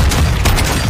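A shotgun fires during Call of Duty Modern Warfare 2, a dense, loud burst of booming gunfire that fills the short moment without any talk.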